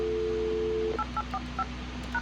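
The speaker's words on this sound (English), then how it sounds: "when I dial numbers out of it" A steady tone cuts off, then a Cisco 8831 conference phone sounds a quick series of DTMF dialing beeps, each short and evenly spaced, with no talking.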